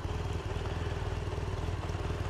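A 2015 BMW R 1200 R, a 1200 cc boxer-twin motorcycle with shaft drive, runs nearby with a steady, throbbing low-pitched engine pulse and mechanical clatter, with no talking over it.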